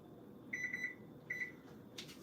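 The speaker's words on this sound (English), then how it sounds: "So I'll start a timer for 6 minutes" A kitchen timer being set while zucchini cooks, giving two runs of quick high electronic beeps, four then two, close and clear over quiet room noise.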